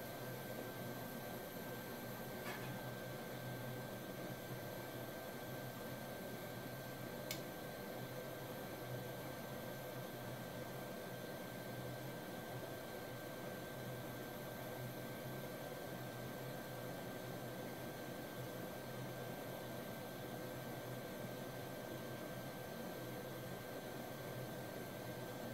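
Steady, loud roaring hiss of a torch flame heating neon glass tubing to preheat an earlier 90-degree bend during a neon beer sign repair, continuous and unchanging throughout with no speech.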